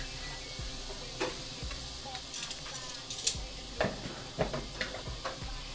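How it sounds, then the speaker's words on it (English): Shrimp for Italian shrimp pasta cook in a pan, a quiet, steady sizzle broken by a string of sharp taps and clicks of stirring. "I got the shrimp cooking in the pan right now"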